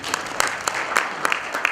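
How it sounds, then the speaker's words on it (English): A small conference audience claps for a presenter, a sparse run of separate hand claps at uneven intervals, fairly close and brief. "One round of applause for Dave"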